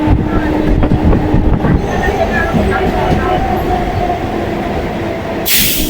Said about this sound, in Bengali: আমাদের ট্রেনটা এই মুহূর্তে ঢুকছে পার্ক সার্কাস স্টেশনে